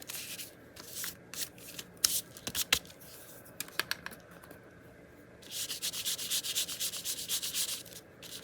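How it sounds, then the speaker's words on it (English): Dry rubbing and scraping against a small item, wearing lettering off its surface, comes in scattered short strokes and scuffs, then turns into a steadier, louder stretch of rapid rubbing near the end, close and without talk. "It's rubbing a little bit of the letters off."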